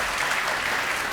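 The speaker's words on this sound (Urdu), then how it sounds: "تو بجا دیں تالیاں" Studio audience applause on a Ramazan talk show, a steady dense wash of clapping filling the short stretch at even loudness, with no voices over it.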